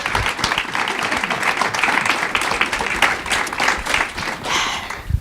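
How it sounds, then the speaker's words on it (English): Enthusiastic audience applause greets a panel of women at a public talk, a close, lively wash of many hands clapping with a few sharper individual claps standing out, continuing for several seconds. "So can I get a round of applause for these women"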